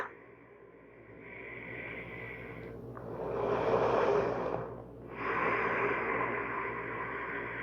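Slow, deep breathing during a guided Pilates stability exercise: a quiet inhale swelling into a fuller, louder breath around the middle, then another drawn breath, close and soft with no talking.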